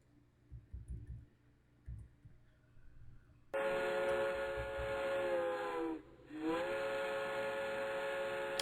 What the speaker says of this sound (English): Can this fucking train shut its fucking mouth, dude?